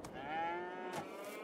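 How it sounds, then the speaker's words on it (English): A cow on a Canadian farm gives one long, loud, close moo that swells and then fades, with faint outdoor ambience around it. "Let's go look at the cows. How are the cows doing?"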